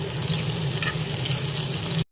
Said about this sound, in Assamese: এই বিলাহীখিনি ভাজি মই এতিয়া